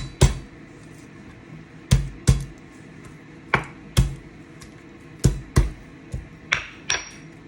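Garlic is chopped with a knife on a cutting board, about a dozen sharp, separate knocks in an uneven rhythm, close and clear with no talking.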